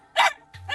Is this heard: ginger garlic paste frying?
no